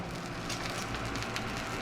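Food sizzling in oil in a frying pan during a full English breakfast cook, a steady close crackling hiss that holds evenly throughout.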